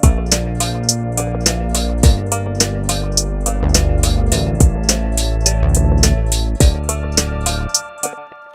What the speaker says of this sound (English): If I just have what we call root position bass movement, that's going to sound like this.